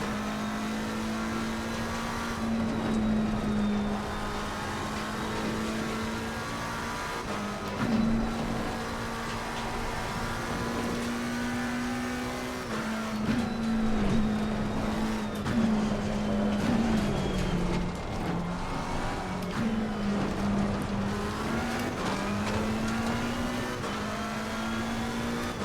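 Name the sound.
old McLaren race car engine in a racing video game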